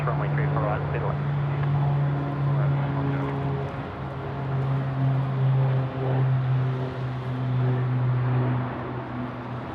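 An airliner taking off from runway 34 right at Sydney Airport, a steady loud engine roar with a droning hum that holds throughout, heard from a distance with faint voices talking underneath.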